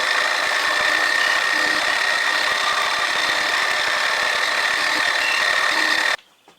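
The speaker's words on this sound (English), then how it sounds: "I'm going to side mill 1/2 millimeter off of either side." A milling machine side-mills a slot with a 4 mm cutter while machining a steam valve for a Stuart 10V model engine, a steady loud whirring hum with a faint underlying rumble that runs for six seconds, then cuts off.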